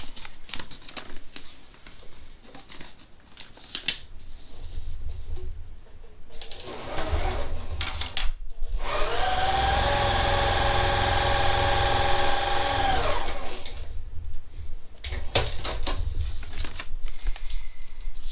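A sewing machine runs a steady, fast stitching burst for several seconds while it sews a paper-pieced log cabin quilt block. Quieter handling and pauses come before and after the stitching.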